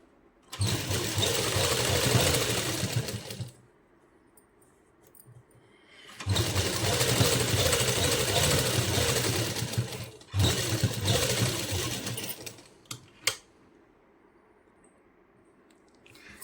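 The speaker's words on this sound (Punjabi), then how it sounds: "ਇਸ ਤਰ੍ਹਾਂ ਬਿਲਕੁਲ ਇਹਦੇ ਸਿਰੇ ਸਿਰੇ ਦੇ ਉੱਤੇ ਇੱਕ ਸੀਨ ਲਾ ਲੈਨੇ ਆ" A sewing machine stitches a seam along lace on a puff sleeve, running in three fast, steady mechanical bursts of a few seconds each, separated by quiet pauses, with faint handling clicks near the end.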